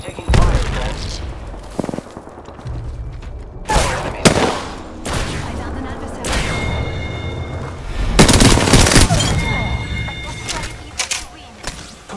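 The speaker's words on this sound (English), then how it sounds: "Opening fire on the enemy." Bursts of automatic gunfire from weapons in the video game Apex Legends, loud and close, come in rapid volleys with pauses between them, alongside a voice speaking.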